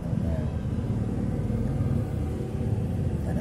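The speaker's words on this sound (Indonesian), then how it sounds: "Ada suara mobil." A car passes with a steady low rumble that swells and fades across a few seconds under continuous background noise, with a person speaking faintly over it.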